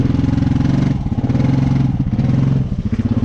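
A Honda off-road vehicle stuck in mud after a hurricane revs hard and loud up close, its engine pulsing and surging in repeated bursts with clattering under the strain.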